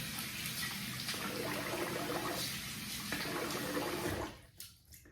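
Water splashes and runs steadily and close by as a face is wetted before a wet shave, the sound broad and continuous before cutting off abruptly near the end, with a few faint drips after.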